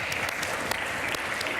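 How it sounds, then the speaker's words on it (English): A conference audience applauds, dense continuous clapping from many hands filling the room, close and steady for a brief moment. "Give yourself a round of applause for coming out."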